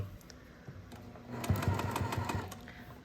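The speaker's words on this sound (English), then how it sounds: "So we're just going to stitch with a consistent seam allowance all the way down the length of this strip." A sewing machine stitches quilt strips with a fast, quiet mechanical rattle that starts up midway and runs as a steady chattering burst for about a second and a half before slowing, preceded by a few soft clicks.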